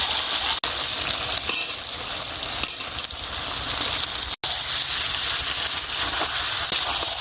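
Steady loud sizzle of chicken curry frying in a pan after potatoes go in, continuous hissing with a couple of brief breaks.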